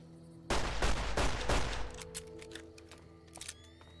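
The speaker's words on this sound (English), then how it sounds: "nearly shot that guy" Rifle gunfire in the video game Fallout New Vegas, a quick burst of loud shots in rapid succession that gives way to a lingering tail and quieter game sounds.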